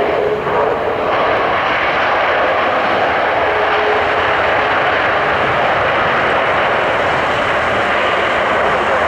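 An Airbus A320 jet departs runway 25 at Rome Fiumicino, its engine roar loud and steady throughout, a broad continuous rumble with no pauses.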